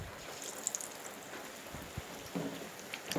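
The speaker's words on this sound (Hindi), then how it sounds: "और बारिश तेज़ भी हो गई है" Heavy rain pouring down outdoors, a soft continuous wash of patter with scattered louder drips and splashes nearby.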